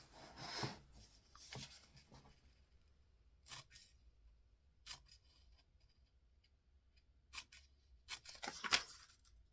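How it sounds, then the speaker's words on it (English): Scissors snipping into folded book pages about a centimeter deep, making short crisp paper cuts in sparse quiet bursts, close to the mic with no talking. "Now you cut in approximately 1 centimeter."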